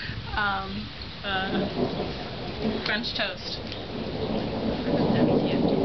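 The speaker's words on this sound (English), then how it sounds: "You probably can't hear us because of the thunder right now." Thunder rumbles low and heavy through a warm rainstorm, with steady rain pouring around it and swelling louder toward the end, while people talk briefly near the start.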